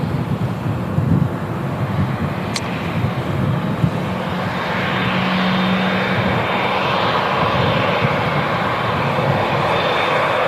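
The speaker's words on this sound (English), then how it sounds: "Should get an awesome view of this as it taxis right past us here at the Runway Visitor Park." A Saudi airliner taxis past the runway visitor park at Manchester Airport, its jet engines a steady, swelling rumble and whine that grows louder and nearer across the clip, with wind buffeting the microphone.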